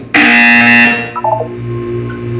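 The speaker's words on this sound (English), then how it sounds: "You will hear a buzzer." Loud electronic buzzer from the Portal 2 game sounds once for just under a second, a harsh tonal blare, then fades into quieter lingering tones and a low hum.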